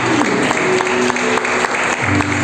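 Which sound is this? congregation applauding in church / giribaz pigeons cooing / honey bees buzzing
congregation applauding in church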